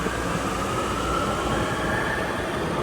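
A Panama City metro train rumbles at a station in a steady, moderately loud drone, with a faint whining tone running through it and no one talking.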